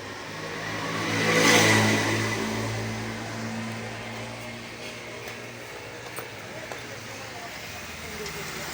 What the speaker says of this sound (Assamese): এইখনৰ ফুল ইঞ্জিন বনাইছিলোঁ গ্লেমাৰ এইখন